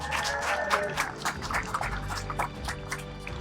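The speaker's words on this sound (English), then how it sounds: "Can we please give a round of applause to the IHSCA community?" Applause from a graduation crowd honoring a high school community fills the hall, a dense patter of many hands clapping at steady strength throughout, with no voices standing out.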